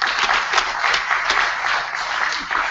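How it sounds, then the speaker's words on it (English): A conference audience claps for the speakers on stage at a morning session, giving loud, close, continuous applause with slight swells and no talking over it. "let's have one more applause for the speakers here"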